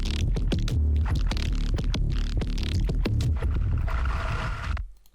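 A dense, heavily compressed music mix pumps with throbbing, distorted low end and sharp percussive hits, its upward compression effect chain pushing everything loud and close before the sound cuts off abruptly near the end.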